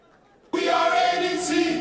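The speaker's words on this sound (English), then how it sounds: "Round of applause." A crowd at a national elective convention of the ADC political party breaks into loud, sustained applause and cheering after a brief near-silent moment, holding steady to the end.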